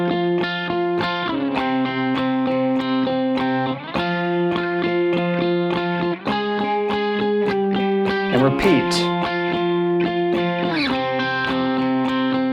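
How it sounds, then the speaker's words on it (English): Distorted electric guitar plays octave parts from a song in steady eighth-note patterns, loud and close, with chord shifts and a brief slide; a voice speaks briefly over it. "we have a second guitar that's octave swiping."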